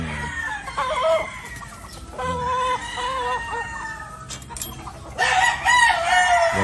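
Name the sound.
chickens crowing and clucking on a farm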